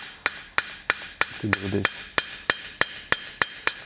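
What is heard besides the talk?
light hammer strikes in blacksmith forging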